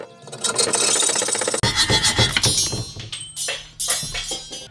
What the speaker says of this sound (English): You have to use a hacksaw. So I'm gonna get this cut right now